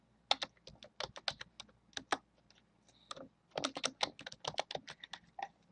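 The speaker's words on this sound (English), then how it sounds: "I'm going to type that in." Steady bursts of typing on a computer keyboard while entering text into an Excel spreadsheet field, quick clustered keystrokes with brief pauses between words, close and clear with no talking.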